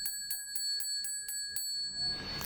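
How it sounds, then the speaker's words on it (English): A small golden bell rings in rapid repeated strikes, about seven bright, clear tings in an even rhythm, close and alone, before a louder rustle at the end. "So for group 1, I have this golden bell."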